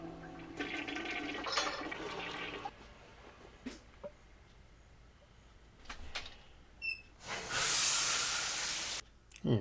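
Shower water from the 1960 film Psycho hisses in a long steady burst near the end, after earlier rushing water and assorted bumps, with the spray loud and close.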